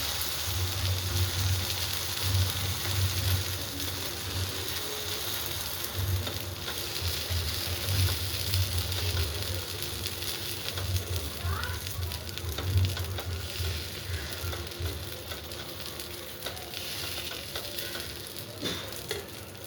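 Dosa batter sizzles steadily on a hot dosa griddle, a continuous crackling hiss that stays fairly loud throughout.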